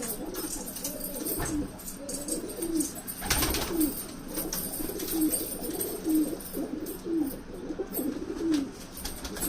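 Young jeera dobaaz pigeons cooing, a steady series of soft repeated coos at a regular rhythm, fairly close, over outdoor background noise with a brief thump midway.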